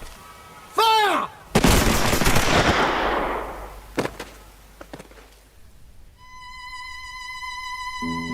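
A firing squad volley of rifles, one loud close burst of simultaneous shots that decays into a long rumbling tail, followed by a few scattered single cracks, within a dramatized historical scene.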